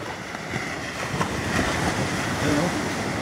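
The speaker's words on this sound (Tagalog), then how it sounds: "Medyo malakas pala alon" Steady roar of rough sea surf with wind buffeting the microphone at a beach resort in San Juan, La Union, continuous and fairly loud, faint voices underneath.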